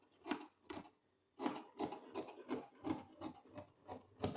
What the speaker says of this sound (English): I'll be cutting off this excess that's inside.